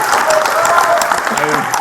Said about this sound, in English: give him a round of applause for those answers, guys